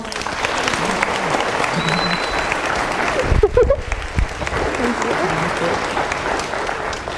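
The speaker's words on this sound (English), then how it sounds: "Let's give one more round of applause." Audience applause at a science conference keynote, a steady dense wash of clapping from a large crowd lasting throughout, with a brief louder burst midway.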